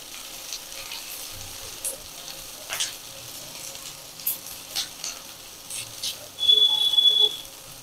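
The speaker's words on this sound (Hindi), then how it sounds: "एक से 2 मिनट इसे भी सॉटे करूंगी।" Chopped capsicum sautés in a pan for restaurant-style baby corn chilli, giving a faint, quiet sizzle broken by intermittent utensil scrapes and taps, with a brief louder burst of sizzling near the end.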